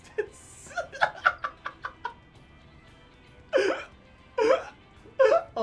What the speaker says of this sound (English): Oh no, I fucking got hiccups from that.